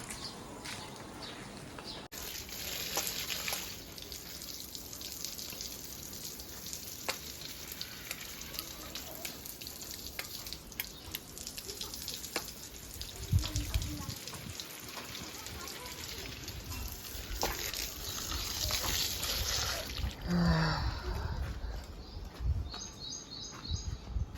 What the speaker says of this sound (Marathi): आता पाणी मारू आपण झाडांना बाहेर, वातावरण थंड करू